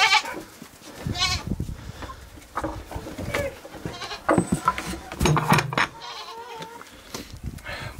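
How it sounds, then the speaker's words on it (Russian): Goats bleat repeatedly in a rural Ural village in winter, with close, loud, uneven calls overlapping amid scuffling farmyard noise. "Пускай козы немножко походят."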